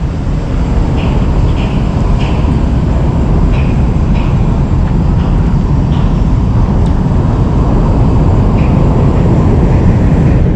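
Loud, steady rumble of a light rail train rolling past nearby, with faint squeals and clicks over the continuous roar.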